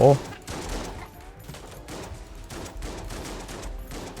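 Shotgun fire in the video game Enter the Gungeon comes as dense, continuous bursts of rapid gunshots layered with game effects and music, steady and loud throughout the clip.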